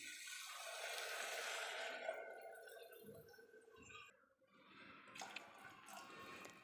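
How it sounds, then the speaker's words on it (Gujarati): Water is poured from a glass into a pot of spiced khichdi mix, a steady close splashing gush that thins out, then a second shorter pour follows; no talking. "હવે એમાં એડ કરીશું પાણી."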